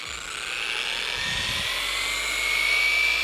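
Power polisher buffing an epoxy piece, a steady high-pitched motor whine running continuously at close range with no talk.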